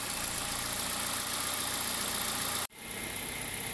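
A cold Toyota Corolla engine being revved slightly, giving a steady, close mechanical drone with a rattling noise that cuts off abruptly near the end, then resumes at a lower level.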